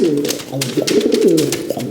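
A rescued white pigeon coos close by, with low, throaty rolling coos repeating through the moment, while a person talks over it.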